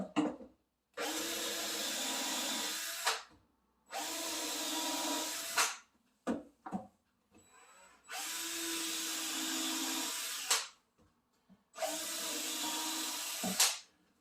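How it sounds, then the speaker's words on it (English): A power drill with a countersink bit whirs in four separate bursts of a few seconds each, drilling holes for cabinet drawer fronts, close up, with short quiet gaps and small clicks between them. "It's a drill and a countersink, and I drill 4 holes."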